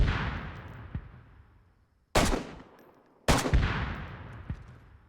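Gunfire in the video game DayZ: two sharp, loud shots about a second apart with reverberant tails, following a fainter earlier report, with no talking.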